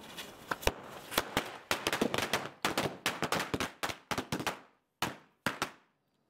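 Diwali firecrackers going off outdoors in a rapid, irregular string of sharp loud cracks and pops that thins out into a few last scattered bangs, with no talking.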